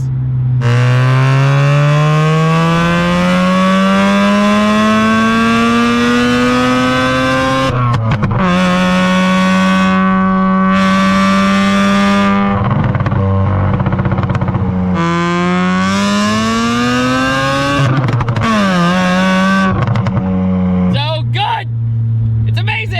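A Mazda RX-7 rotary engine revs loud and close, its buzzing tone climbing and holding, dropping briefly between pulls, then revving again in repeated sustained bursts.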